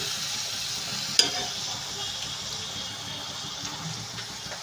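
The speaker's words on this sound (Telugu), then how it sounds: "కలిపేసాం కదా, ఇవి మొత్తం దగ్గరికి అయ్యే వరకు ఫ్రై చేసుకోవాలండి." Egg bhurji sizzles faintly in a pan while being stirred and fried, a soft steady crackle with one brief scrape of the utensil.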